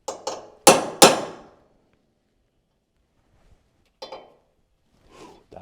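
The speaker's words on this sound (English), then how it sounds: "I'm going to grab my center punch and hit those a little harder" Several sharp metallic hammer strikes on a center punch ring out, four in quick succession, then two more after a pause, each decaying quickly into silence.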